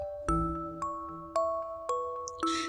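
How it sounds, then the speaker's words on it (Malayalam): A doorbell chimes, a series of about five bright ringing tones struck in quick succession, each note lingering. "കോളിംഗ് ബെൽ കേട്ടാണ് കണ്ണു തുറന്നത്"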